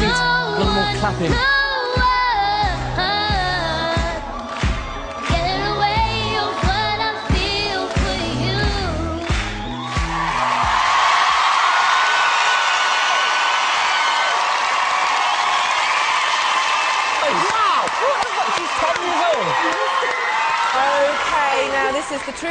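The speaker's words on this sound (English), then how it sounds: "A little more clapping." A talent-show audience claps and cheers loudly after a live song by a young singer, a dense, sustained roar of applause and whoops that follows the music.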